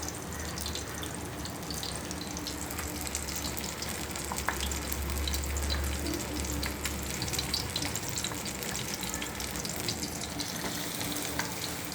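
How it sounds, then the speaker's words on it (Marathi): Fish coated in rice semolina shallow-frying in a pan, Karwar coastal style, a dense continuous sizzle with crackles and spatters, close and steady throughout with no talk. "आता मी ह्याला एक रवा फ्राय करून घेते।"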